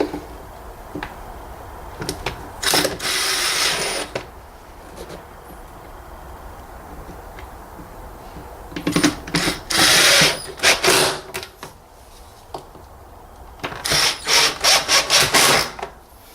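Screws being tightened on the air filter housing of a 2014 Renault Clio 1.2 16v, bursts of scraping, ratcheting turns in a few close clusters separated by quiet pauses.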